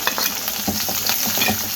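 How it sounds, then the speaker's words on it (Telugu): Onions and green chillies fry in a mustard-seed tempering, a close, crackling sizzle with repeated scraping stirs of a spoon in the pan. "ఉల్లిపాయ పచ్చిమిరపకాయ కూడా వేసేసుకుంటున్నా"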